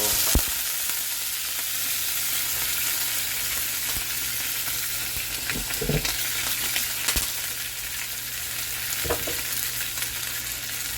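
Swai fish sizzles steadily in olive oil in a small kitchen pan, a continuous bright frying hiss with a few sharp clicks and pops and no talking.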